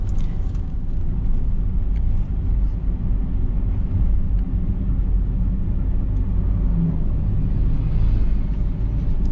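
A Daihatsu Sigra with a manual gearbox labours uphill, its engine giving a loud, continuous low rumble heard from inside the cabin with steady road noise beneath it.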